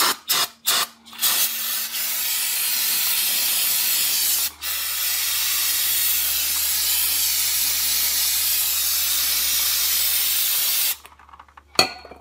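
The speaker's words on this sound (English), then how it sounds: "A little bit of brake cleaner, and I should take care of this guy." Brake cleaner from an aerosol can hisses onto the brake caliper of a 2016 Hyundai Tucson during a brake pad job: a few short bursts, then one long, steady close spray that cuts off sharply near the end.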